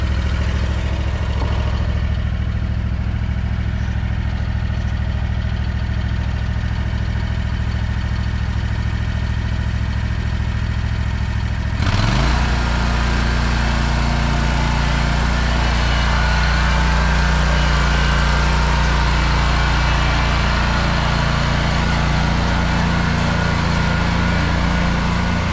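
Riding lawn mower backing up and turning on a morning lawn: a steady engine drone that shifts in tone about halfway through as it changes direction, loud and close, continuous throughout, with no voices.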